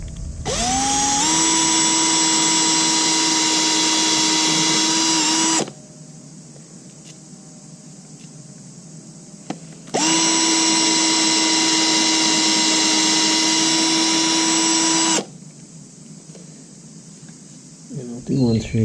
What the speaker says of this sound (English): I'm going to be drilling through there down into the wood